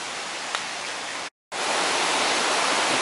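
Afon Teigl waterfall tumbling down after heavy rain, a loud, dense and steady rush of water heard close by, broken only by a brief moment of silence partway through.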